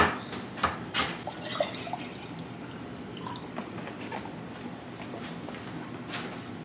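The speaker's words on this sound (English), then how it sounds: "Dripping noise is my faucet" Water drips from a household faucet left running in freezing weather, a few soft irregular drops with faint clicks against a low background hiss.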